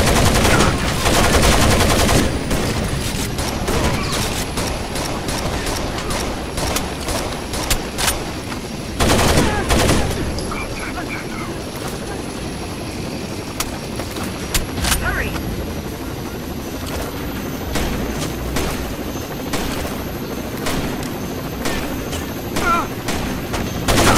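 Sustained automatic gunfire and heavy bursts from a Rainbow Six Vegas 2 firefight, loud and dense, with a strong volley near the start and another around nine seconds, a constant roar of engine-like noise underneath and voices calling out over it.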